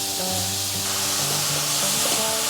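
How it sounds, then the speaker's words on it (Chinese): King oyster mushrooms stir-fry in oil in a hot wok, giving a steady, loud sizzle that runs throughout. Soft scraping and stirring noises sit under it. "锅内放入适量的油，放入杏鲍菇炒香，把杏鲍菇炒到表面微焦"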